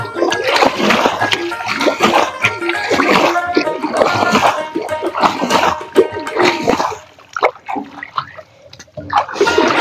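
Water being bailed out of a shallow pond hole for fishing, with repeated loud splashes and sloshing in an uneven rhythm, close by, briefly easing near the end.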